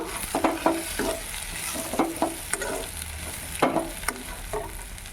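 Crushed peanuts being stirred into a sizzling drumstick stir-fry, with repeated spatula scrapes and clacks against the pan over a steady frying hiss.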